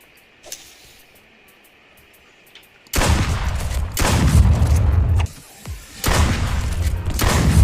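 Gunfire in the video game Duck Season: loud bursts of rapid, dense shots in several long volleys after a quiet start, close and harsh, no talk over them.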